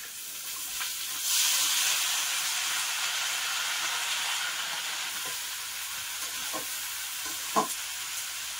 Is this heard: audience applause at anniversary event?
no